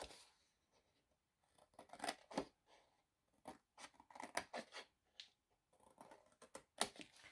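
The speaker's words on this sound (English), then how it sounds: "we're simply going to cut along the score marks just like we did before" Scissors snip through cardstock paper along score marks while making an easel card, a series of sharp, close cuts in short bursts separated by quiet pauses, with no talking.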